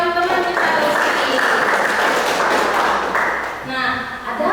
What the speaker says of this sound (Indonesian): Kita beri tepuk tangan untuk jawaban teman kita Lucy.